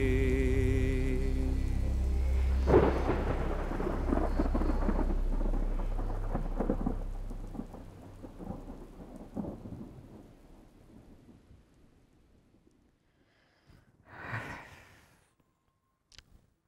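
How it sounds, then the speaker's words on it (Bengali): Thunder rumbles heavily over steady rain, the roll fading into a quieter patter, then a second softer burst of noise near the end. "সারা রাত ঝড় বৃষ্টি হলো"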